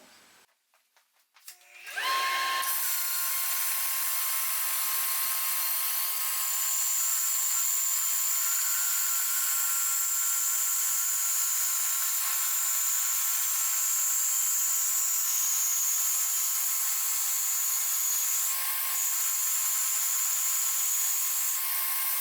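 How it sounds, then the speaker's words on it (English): A bandsaw runs steadily while cutting glued-together scrap wood pieces along a traced pattern, a loud continuous whine with a high tone that holds after a brief start, with no talking. "So now I just need to make a rough cutout here on the bandsaw."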